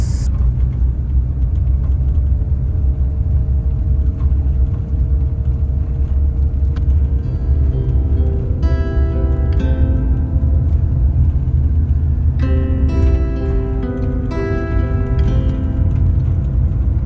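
A car drives along a back road in the Darling Downs, its steady low road rumble and engine drone continuous throughout, with brief higher tonal sounds rising briefly over the hum.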